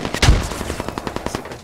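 Rapid automatic gunfire from the video game Squad rattles off in a quick, even burst of sharp shots after a heavier opening crack, with no talk.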